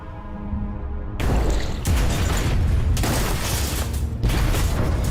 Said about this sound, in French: Une autre volée de 8 grenades anti-sous-marines s'abat sur eux.